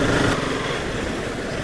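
A Royal Enfield Himalayan motorcycle rides past on a road near Satara, its loud engine drone blending with wind and the rider's own nearby bike engine for the whole short moment.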